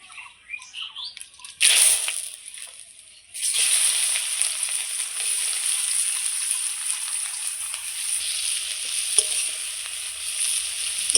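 Sliced onion and bay leaves hit hot oil in a pan, bursting into a loud sizzle after a short clatter, then settling into a steady, close crackling fry that continues to the end.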